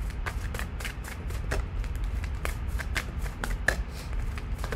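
A deck of oracle cards is shuffled close up, a continuous run of soft riffling and card-slapping flutters with a few sharper snaps, with no talking.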